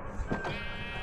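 A goat bleats in a Minecraft-style block-building game, one short wavering bleat heard close and clear.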